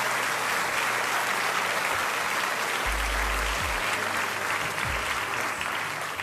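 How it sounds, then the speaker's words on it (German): Steady applause from a crowd, dense and continuous clapping throughout, with a low hum faintly underneath. "Kleiner Applaus"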